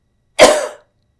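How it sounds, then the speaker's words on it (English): One short, harsh cough sounds close and alone in otherwise quiet surroundings. "Boy, they're making me cough."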